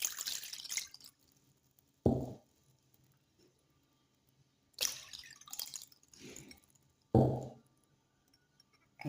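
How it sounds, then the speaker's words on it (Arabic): Water poured into a pan for lemon syrup in a home kitchen, heard as a few separate short splashing pours close by with quiet pauses between them. "ندير الماء هو الأول"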